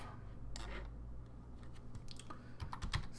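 Quiet keystrokes on a computer keyboard tap out at an uneven pace while commands are typed into a terminal, clustering into quicker runs near the end over a low background hum.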